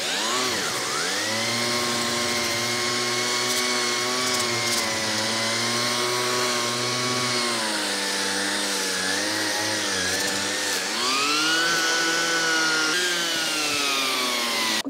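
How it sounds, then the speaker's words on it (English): An orbital sander with an 80 grit disc whines steadily as it grinds surface rust off an old hand saw blade, its pitch dipping and rising with pressure. "we'll hit this with the orbital sander now, we'll get it cleaned up"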